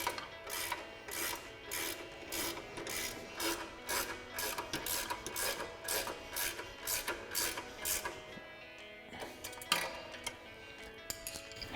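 18mm ratcheting wrench tightening a bolt during a Teraflex suspension lift install on a Jeep Wrangler JL, a quick repeated series of clicking ratchet strokes, close and fairly quiet.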